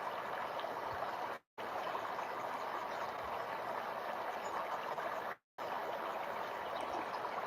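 Steady outdoor stream of flowing water with a constant broadband rush, fairly soft and continuous, interrupted by two brief dropouts of total silence.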